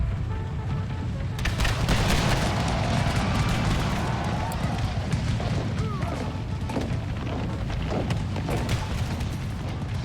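Battle gunfire in the Empire: Total War American Civil War mod at a bridge, dense rattling volleys and booming artillery under a constant roar, with someone talking over the din.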